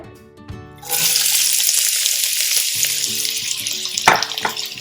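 Thinly sliced leeks and a large onion hit hot fat in a soup pot with a sudden loud hiss that settles into a steady close sizzle, with a clank of utensil against metal near the end.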